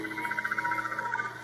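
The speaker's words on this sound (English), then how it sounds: "Instead of the trickling effect that you would hear in the version 2 or the version 1, you hear more of an electric buzzing." The Kyberphonic Darksaber V3 sound font playing on a CFX lightsaber hilt: a steady electric buzzing hum with a fast, regular pulsing flutter, close and continuous.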